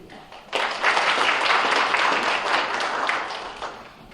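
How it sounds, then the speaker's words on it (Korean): After a brief quiet moment, an audience at a disaster-relief policy forum breaks into loud, steady applause that carries on evenly and fades slightly near the end. "큰 박수 부탁드립니다."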